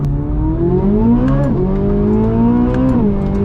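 A 2023 Chevrolet Corvette Z06 engine accelerating hard on a damp road, heard from inside the car: a loud rising engine note climbing through the gears, with two brief drops at the shifts before it climbs again.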